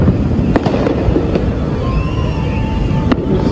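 Independence Day fireworks bursting over downtown, with sharp booming cracks at intervals over a steady crowd rumble and crackling fizz, loud and close.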